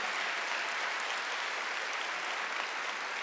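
A church congregation claps during a Wednesday worship service, giving a dense, steady wash of applause that fills the room at an even loudness for the whole stretch, with no talk over it.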